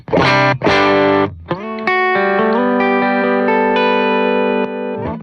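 A distorted electric guitar plays a couple of chords, then a boost pedal switches on and it sustains a loud, saturated tone with a rich buzzing edge.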